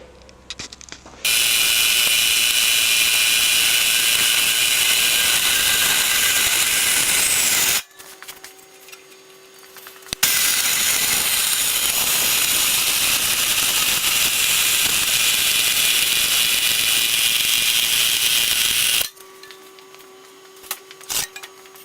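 A steel exhaust pipe being cut for a Mazda RX7 exhaust tip: a loud, steady grinding power-tool cut running about seven seconds, a short pause, then a second long, harsh cut of similar length, with quiet gaps between.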